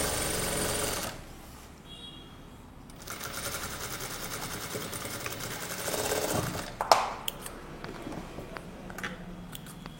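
A sewing machine runs in short bursts, stitching fabric with a fast mechanical chatter, pausing between runs, and a few clicks and handling sounds follow.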